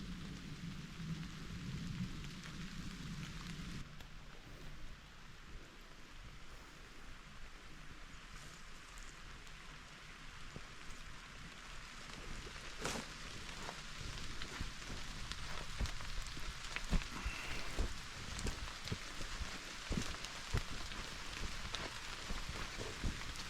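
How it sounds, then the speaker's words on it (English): Rain falls through flooded river bottom timber, a wooded duck-hunting backwater, making a constant soft wash with scattered sharp drips and cracks and a low rumble swelling toward the end, with no speech. "if this rain persists for the water to be deep enough"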